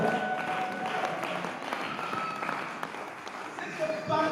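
A church congregation applauds in a continuous crowded patter of clapping that holds steady throughout, with voices mixed in under the hands.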